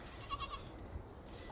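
Goats in a garden give a short, thin bleat, faint and somewhat distant against quiet outdoor background, with no voices.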